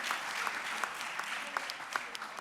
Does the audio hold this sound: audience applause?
yes